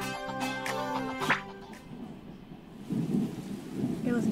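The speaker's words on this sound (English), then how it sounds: "It was dark and stormy." A thunderstorm rolls through a video game scene, steady rain hissing and thunder swelling into low rumbles after a brief musical phrase at the start.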